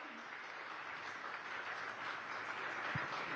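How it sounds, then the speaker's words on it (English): Audience applause at the Times Now Summit 2025, a steady, dense wash of clapping from a large crowd that holds evenly throughout, with no speech over it. "can we have a little more enthusiasm and a big round of applause?"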